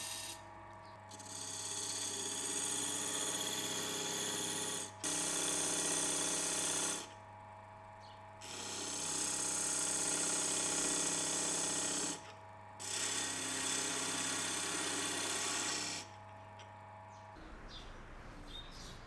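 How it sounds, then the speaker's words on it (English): A wood lathe hollows out a wooden salt and pepper grinder cap with a parting tool, cutting in loud sustained stretches broken by short pauses, with no one speaking. "I'm going to have to hog that out with my parting tool"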